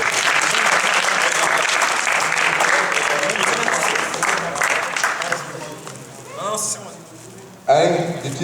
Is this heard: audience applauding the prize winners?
yes